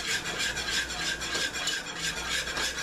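A whisk moves quickly through a cornstarch mixture for strawberry pie in a bowl, making a close, continuous rhythmic scraping swish that is steady and unbroken, with no voices.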